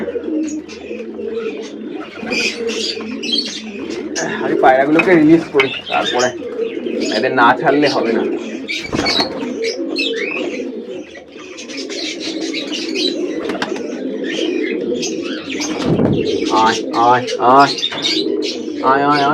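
Pigeons coo and chirp continuously in a loft during morning feeding, loud and close with occasional wing flaps, while someone talks over them.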